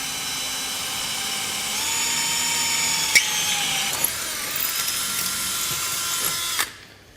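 Power drill boring holes in a Honda Talon 1000 side-by-side during a winch mount install, a steady high whine that climbs in pitch, with a few sharp clicks before it winds down.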